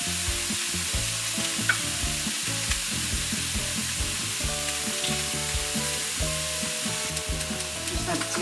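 Garlic sizzling in a pan with frozen spinach, with steady frying crackle and stirring scrapes throughout, loud and close, no talk.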